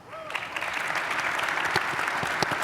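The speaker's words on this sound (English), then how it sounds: "let's give this panel a round of applause." A conference audience applauds a sports analytics panel, steady dense clapping from a crowd that swells quickly and holds at an even level.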